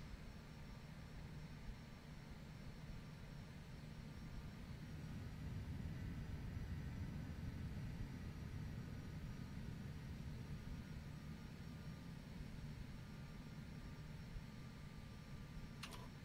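Steady jet and propeller drone from an F-22 Raptor and a Skyhawk flying in a flight simulator game, a continuous moderately loud engine roar with no breaks, heard alone without talk.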